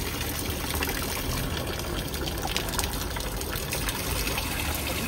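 Water runs steadily from a public drinking fountain in Rome, a continuous close splashing gush with no pauses and no talking over it.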